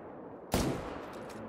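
A rifle shot fired at a moose while hunting in the game Call of the Wild: one sharp, loud report that breaks a quiet scene, followed by a fading rumbling tail.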